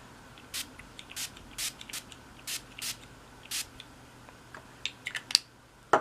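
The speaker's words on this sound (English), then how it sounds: "so I'm just going to spray my face" Repeated short hissing bursts of an H2O facial mist spray bottle misting onto a face, about a dozen quick sprays in an irregular rhythm, close and fairly soft.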